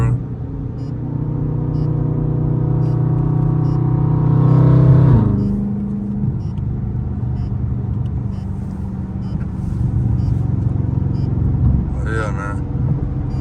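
Dodge Charger Scat Pack driving on a highway, a steady close engine drone with a swell of revving around the middle, continuous over the whole stretch while someone talks over it.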